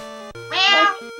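A cat gives a single drawn-out meow, close and clear, heard against a steady background of tonal game music.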